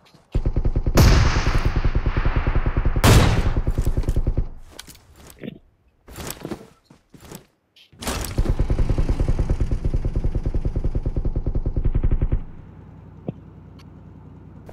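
Rapid automatic gunfire in PUBG Mobile comes in loud, close bursts lasting several seconds each, broken by shorter volleys and a single sharp shot near the end.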